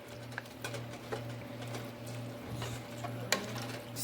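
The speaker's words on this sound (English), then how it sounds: "Stir it really well." Chicken broth and vegetables being stirred in a pot for chicken pot pie, a soft steady scraping and sloshing close by with light clinks, fairly quiet throughout.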